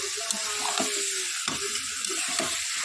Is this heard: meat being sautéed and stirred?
yes